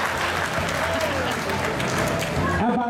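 An audience claps steadily for a sumo wrestling demonstration at a Battle of Atlanta event, dense applause throughout, with a voice speaking briefly over it near the end.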